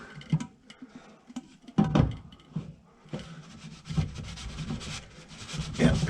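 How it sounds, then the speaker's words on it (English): Plastic water filter housing being screwed back onto its head by hand, giving intermittent close scraping and rubbing twists with a few sharper clicks as the threads turn. "popping this back on, screw it on, righty tighty, lefty loosey"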